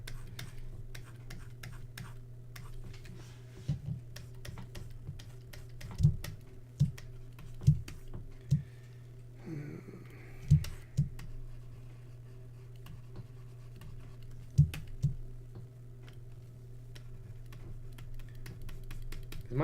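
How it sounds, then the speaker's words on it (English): Plastic stylus pen clicks on a drawing tablet placed right beside the microphone, sounding as a dozen or so sharp, irregular taps over a steady low hum, loud and close, with no talking. "my pen clicking like super loud? Because my tablet is like right next to the microphone."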